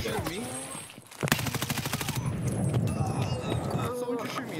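Automatic gunfire in a multiplayer shooter game: a fast, sustained rattling burst of close shots lasting about a second, followed by scattered movement noise, with people talking before it.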